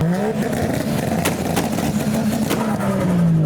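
Modified cars rev as they pull out of a crowded car meet, a continuous engine drone with a few sharp bursts and pops, close and loud, voices barely present.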